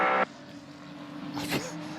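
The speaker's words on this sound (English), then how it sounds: "A little bit of loud engine noise on the radio there." Race car engine noise heard through a team radio at Imola, a short compressed burst of loud tone followed by low hum and a brief rising whoosh, with speech throughout.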